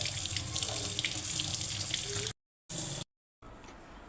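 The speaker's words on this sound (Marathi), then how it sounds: "नळाखाली धुवून घ्यायचे स्वच्छ पाण्यात सगळे पाय" Running tap water splashes steadily over mutton trotters being rinsed, cut off twice by brief gaps, with no speech.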